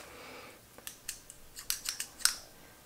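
Small travel scissors snip and click in a series of sharp, close metallic ticks, about eight quick cuts spread unevenly over a couple of seconds, quiet and alone without talk.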